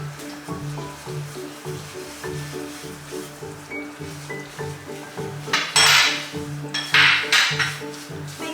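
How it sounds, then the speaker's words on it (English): Sugar stirred into toasting flour in a pan for karah prashad, with soft scraping and rustling that swells into louder gritty stirring bursts over steady background music. "Mix it in well and then continue toasting it"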